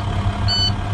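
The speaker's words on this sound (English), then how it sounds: "now it's beeping because the pressure is below 60." A steady high electronic beep tone, a truck's low air pressure warning with pressure below 60, sounds for a moment over the low rumble of the idling truck engine.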